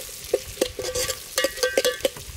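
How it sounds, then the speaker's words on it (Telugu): Chopped onions are stirred and fried in a pan for a mutton head-bone curry. Close, quick scraping strokes of the spoon come in an uneven rhythm over a soft sizzle, with no talking. "ఉల్లిగడ్డ వేసుకొని కలబెట్టుకొని కొంచెం గోల్డ్ కలర్ వచ్చేదాకా వేపుకోవాలి."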